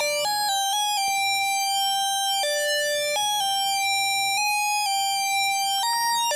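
A XAOC Devices Odessa additive oscillator sounds a bright, pure stack of harmonic tones stepping through pitch changes as its density knob is turned, a steady synthetic drone heard alone.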